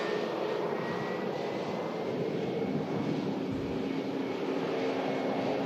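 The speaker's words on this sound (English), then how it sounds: "It's EasyJet arriving in from Munich." An EasyJet airliner arriving at Manchester Airport, its steady jet engine roar loud and continuous throughout with no talking.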